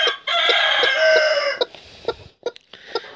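Cochin hens and a rooster on a farm, one long loud crow followed by a series of short sharp clucks, close and clear with no talk.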